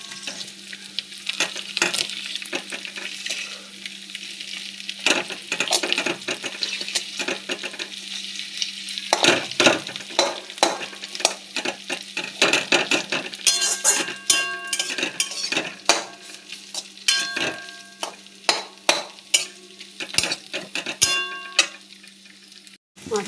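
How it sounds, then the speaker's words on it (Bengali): Fish head frying in a pan with ginger, chili and garlic, a steady sizzle under frequent scraping and clinking of a spatula being worked through it, loudest in the middle stretch, with no talk. "মাছের মাথা ভালো করে ভেঙে দিয়েছি, ভাজা হয়ে গেছে"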